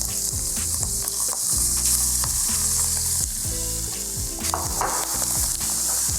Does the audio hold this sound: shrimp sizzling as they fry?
yes